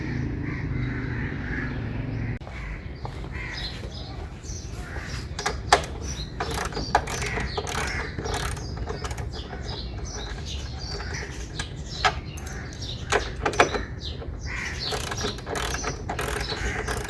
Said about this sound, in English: Remove all 3 bolts.